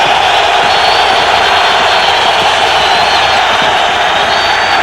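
Stadium crowd at a 2002 regular-season NFL game between the Raiders and Titans roars in a loud, sustained wash of cheering that holds steady throughout with no break.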